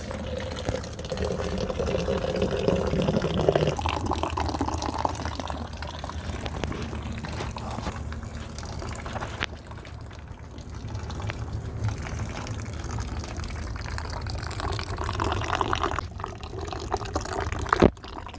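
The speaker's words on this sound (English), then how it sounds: "take your water, and you're letting the water cool off as it travels the long stream" A steady long stream of hot water pours continuously for making French coffee, with a gurgling, filling tone that shifts as it goes, ending in a few drips and clinks.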